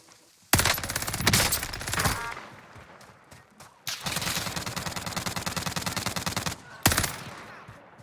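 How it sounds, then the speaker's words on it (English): Video game gunfire in rapid automatic bursts, loud and close, with a long sustained burst in the middle and short sharp volleys before and after, separated by brief quiet gaps. "I'm getting shot from back towards that"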